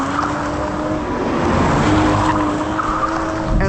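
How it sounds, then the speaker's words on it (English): A 2025 Toyota GR Supra drifting through a corner, tires squealing continuously over a loud, steady engine roar, heard close from inside the car. "if you want to just get the back end out and tuck in the front, like just then, it's very easy to drift"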